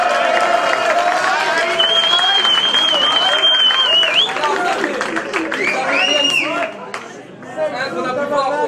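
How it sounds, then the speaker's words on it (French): A rap battle crowd at the Punch-Ligue main event applauds and cheers loudly and steadily, with whistles and chatter mixed into the din throughout. "Rien que pour ça, ils méritent des applaudissements."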